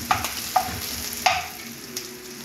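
Meat frying in a pan ahead of a pumpkin and long beans dish, a steady soft sizzle with a few sharp scraping stirs cutting in near and clear, no talking.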